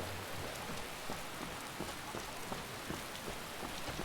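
Steady rain falls over the city of Solitude in the video game Skyrim, a dense, even hiss of drops hitting surfaces that carries on without pause and with no voices.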